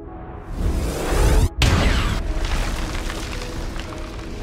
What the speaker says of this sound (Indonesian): akhirnya Mikey pun meledakkan bom ke arah Chambers dan para zombie yang ada di sana